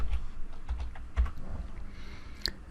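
Fingers tap out a short burst of keystrokes on a computer keyboard, with quick irregular clicks up close and a few heavier key thumps.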